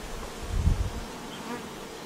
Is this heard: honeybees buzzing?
yes